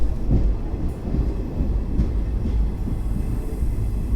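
Passenger train on a journey near a station, a steady close rumble of rolling carriages with faint rail clatter running throughout, no voices.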